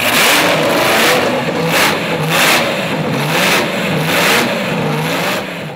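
Auto Union Type C pre-war race car engine revving hard, a loud, close mechanical roar that swells and falls in repeated blips throughout with no talk.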